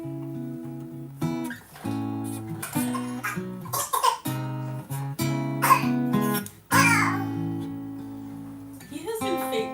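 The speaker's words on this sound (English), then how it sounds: "He has been fake coughing so much today." A man fakes a cough over and over in short exaggerated bursts, loud and close during a live stream, with musical or voiced tones mixed in between the coughs.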